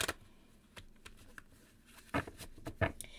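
A message card deck is given a few gentle shuffles, with light close slides and taps building to a couple of soft riffling bursts near the end, fairly quiet overall.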